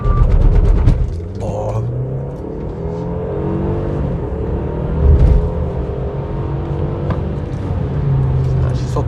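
A Mercedes-Benz E 300 e plug-in hybrid launches hard in Sport Plus mode toward 100 km/h, its engine rising through gears in a loud, close interior drone, with someone talking over it.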